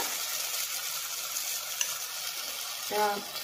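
Grated tomato hits a pan of onion and garlic paste, giving a steady, close sizzling hiss with light stirring, and a brief clatter near the end.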